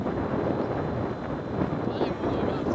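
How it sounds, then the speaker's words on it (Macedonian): Strong morning wind buffets the microphone in a loud, continuous low rumble with gusty swells, near and without pause, in the Macedonian countryside. "Утрово дува силен ветар."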